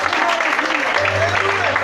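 A church congregation claps during a sermon, a brief, steady spell of applause with a low sustained tone and voices mixed in.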